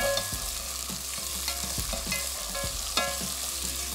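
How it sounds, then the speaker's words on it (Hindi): Chickpeas roasting with dry ginger in a pan, a steady sizzle broken by repeated close scrapes and knocks of a stirring spoon, with no talk. "और अब इसकी थोड़ी सी भुनाई कर लेंगे"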